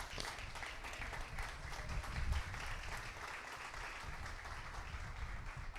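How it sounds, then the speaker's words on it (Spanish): A church congregation applauding during a Sunday service, a dense, steady wash of many hands clapping at moderate distance, lasting the whole stretch without pause. "¿Tiene un aplauso al Señor?"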